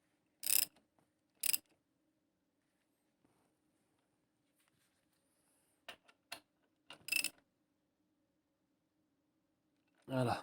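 A ratchet tightens a bolt while engine mounts are replaced on a Saab 9-3 with a B207E engine: a few short, sharp ratcheting bursts separated by quiet gaps, close by, with faint background hum.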